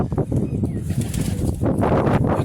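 A pigeon lands on a rooftop with a brief burst of close, loud wing flapping, rapid fluttering beats that continue through the short moment.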